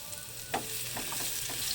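Onions frying and being stirred in a ceramic pan, a steady sizzle with a louder stir scrape near the middle, close and continuous with no talking.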